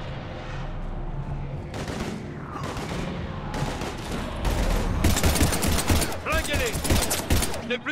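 Scattered gunfire and heavy firefight noise in Mass Effect 3, overlapping shots and bursts growing denser and louder toward the end, with voices speaking beneath the combat.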